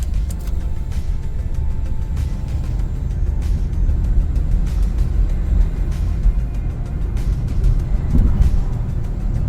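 A Hyundai Santa Fe with an automatic gearbox drives in fourth gear, where the transmission shudders. A steady, loud, low road and engine rumble runs throughout, with no talk.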